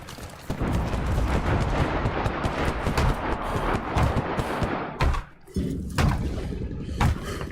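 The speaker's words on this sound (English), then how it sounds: "That cannon is annihilating people somehow." Heavy cannon fire in a war video game, a dense run of booming shots and blasts with a brief lull near the end before more shots resume.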